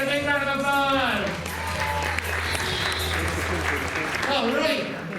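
Crowd applause at a magic show during Fright Fest at Six Flags America, a sustained wash of clapping over which someone talks loudly near the microphone and a low hum runs underneath.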